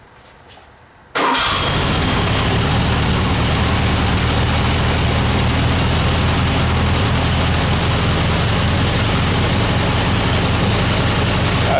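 An engine with K-Jetronic fuel injection cranks and fires after a fuel pressure adjustment, then settles into a loud, steady close-up idle that runs without pause to the end.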